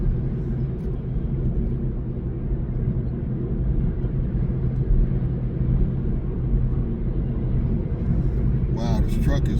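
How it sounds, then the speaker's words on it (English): A truck idles and rumbles in stalled traffic, a steady low engine drone under a near voice that speaks throughout, with a brief burst of higher noise at the end. "this truck is like holding up traffic major"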